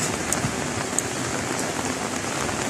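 Steady downpour drumming on surfaces, dense close patter with occasional louder drops, no voices.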